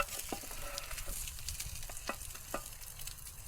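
Food frying in a very hot pan at a winter bushcraft camp with no tent, a steady soft sizzle with a few sharp clicks and stirring scrapes, moderately near and alone.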